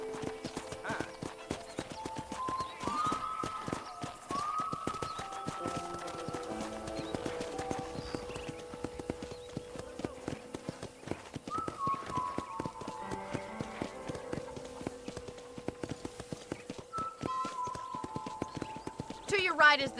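A horse in Red Dead Redemption trots along with steady, rhythmic clip-clop hoofbeats throughout, and a few neighs and whinnies come in. Musical tones and a talking voice run over the hooves.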